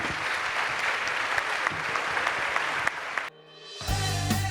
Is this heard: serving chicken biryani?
no